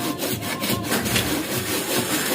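A hand saw cuts into a hard calabash fruit shell, steady back-and-forth rasping strokes at close range, roughly five strokes in quick rhythm, with no talk.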